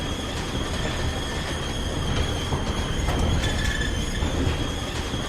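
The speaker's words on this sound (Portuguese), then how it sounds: "O estrépito de um bonde que desce enche de um ruído duro o ar silencioso." A tram descending a street in Porto Alegre fills the air with a harsh, continuous rattling and grinding rumble, with faint metallic squeals and clanks riding on top, loud and steady throughout.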